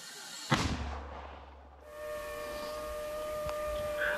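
A mortar round explodes on a battlefield under shelling: one sharp, loud blast followed by a low rumble and a fading roar, while steady tonal whines carry on in the background.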